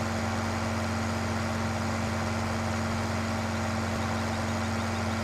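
Tractor engine in the farming video game Farming Simulator 15, a steady low idling drone with a constant hum, even and unbroken throughout, with no talking over it.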